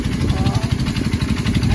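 Motorcycle engine running at idle and pulling away close by, a steady mid-pitched throb with a pulsing beat, while voices talk over it outdoors at a farm field.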